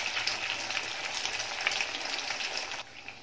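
Carrot and beetroot vadas deep-frying in hot oil, a steady dense sizzle and crackle close by that holds evenly, then drops a little softer near the end.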